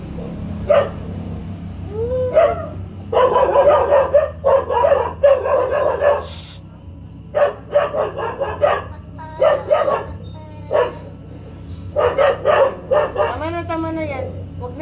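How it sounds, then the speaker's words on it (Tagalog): Several dogs bark repeatedly in bursts, some yips and whimpers mixed in, close by, while a person talks over them. "Huwag na ingay, Huwag ingay, Huwag tahol-tahol"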